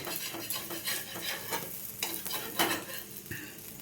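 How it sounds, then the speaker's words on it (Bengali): Mixed vegetables fry in a pan, pressed down so they cook through, with a soft close sizzle and repeated scraping and tapping of a utensil turning them, no voices present. "একটু চেপে চেপে ভাজতে হবে, কেননা অনেক সবজি আছে, যাতে সবজিগুলো ভাজা হয়ে যায়"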